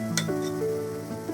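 Fenugreek and mixed vegetable bhajiya fritters fry in hot oil with a steady close sizzle, and a few utensil clinks and stirring sounds ring out above it. No one speaks.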